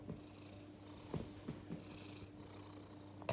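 A cat purrs softly and continuously while cuddled on a sofa, a faint close rumble with a few small rustles of movement.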